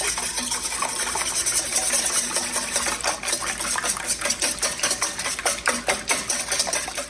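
Eggs whisked in a bowl before milk goes in, a fast, steady, close clicking and sloshing of the whisk that runs through the whole stretch.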